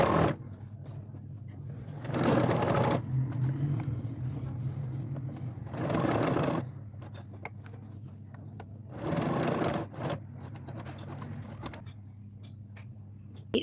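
A sewing machine stitches along marked lines on shorts fabric after overlocking, running in three short loud bursts with quieter gaps and faint handling noise between, close and without talk.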